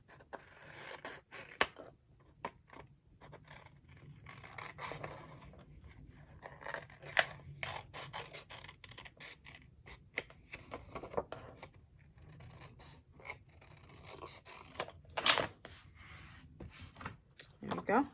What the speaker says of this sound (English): I'm going to cut this little guy out. All the way around, just cut off the excess.